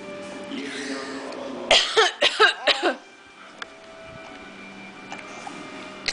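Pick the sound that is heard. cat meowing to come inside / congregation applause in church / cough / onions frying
cough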